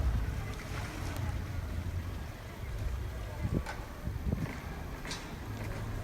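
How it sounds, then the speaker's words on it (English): A boat docking idles and churns water with a low engine rumble, wind and lapping water around it, and a few faint knocks and voices nearby. "you can see the boat being docked very skillfully by the captain there"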